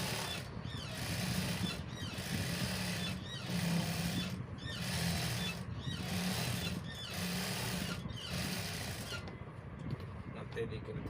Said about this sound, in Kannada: ಮತ್ತೆ ಇದು ಈ ಕಡೆ ತಿರ್ಸಿ ಇನ್ನೊಂದು ಸ್ಟಿಚ್ ಹಾಕಿ.